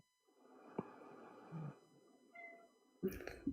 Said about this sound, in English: cat's talking